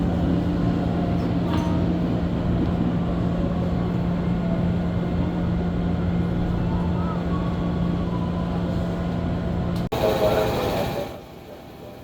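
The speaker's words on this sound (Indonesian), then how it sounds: "di stasiun Cikoya ini kereta berhenti sekitar 1 menitan" Passenger train stopped at Cikoya station, a steady low engine hum with a constant droning tone and rumble held for most of the clip, then a sudden clunk and a brief burst of noise before it quiets.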